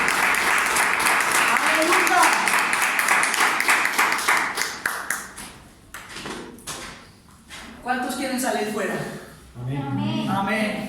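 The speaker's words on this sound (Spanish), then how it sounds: "Denle el aplauso al Señor" A church congregation claps together in loud, rapid applause that fades out midway, after which a voice speaks into the quieter room.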